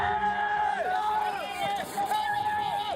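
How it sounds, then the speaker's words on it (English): Spectators cheer a downhill mountain bike rider toward the finish at a Crankworx race in Innsbruck, a steady crowd roar under a commentator's continuous talk. "Fans cheering him on to the finish here"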